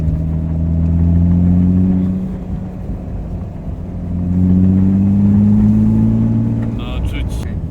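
A BMW E30 with a new engine revs hard at full throttle, swelling to a loud roar twice with a brief dip between, heard from inside the car.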